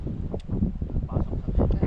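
Outdoor wind gusting against the microphone as a steady, loud low rumble with rustling bursts, close and continuous for a moment, with no speech.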